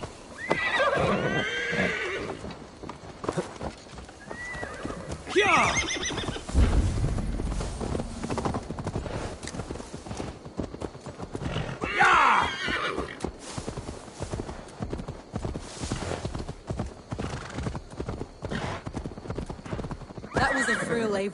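A horse in Assassin's Creed Valhalla whinnies several times over steady clip-clopping hooves, with game voices speaking at points across the stretch.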